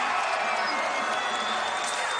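A basketball arena crowd roars for Stanford freshman guard Tyrell Terry, a broad, even wash of cheering and murmur that stays constant and fairly quiet throughout.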